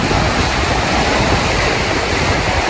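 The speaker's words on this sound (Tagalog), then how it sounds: "Malakas ng alon mga master. Alon malakas oh. Napakalakas ng hangin din." Strong ocean waves crash at a provincial beach while heavy wind buffets the microphone, forming a loud, continuous roar with no voices.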